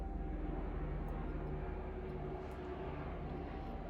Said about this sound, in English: There's a helicopter on the top and making a lot of noise.